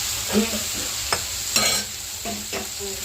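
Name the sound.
carrots, beans and brinjal sautéing in oil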